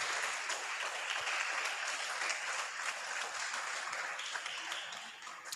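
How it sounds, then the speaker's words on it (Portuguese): Congregation clapping together during a church youth service, a steady dense wash of applause that holds for several seconds and tapers slightly at the end, with no voices over it. "As palmas lá ao Senhor Jesus."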